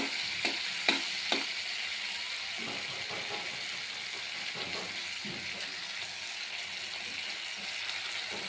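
Dried fish and onions fry together in a pan, a soft constant sizzle broken by a few scraping, clicking strokes of a spatula early on and lighter stirring after.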